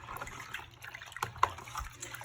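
Warm water is stirred by hand in a foot soak bowl during a DIY spa pedicure, making soft, close sloshing and trickling splashes in irregular bursts with no talk.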